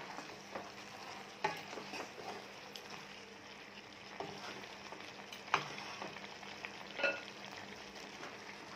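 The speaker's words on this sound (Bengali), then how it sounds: "একটু পর পর কিন্তু নাড়া দিতে হবে, নয়তো লেগে যাবে, যেহেতু এটাতে অয়েল নেই।" Chicken is stirred in a pan without oil, soft scraping and occasional clinks of a utensil over a faint, quiet sizzle, with no talking.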